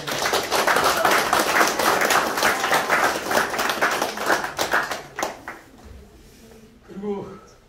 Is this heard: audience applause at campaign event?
yes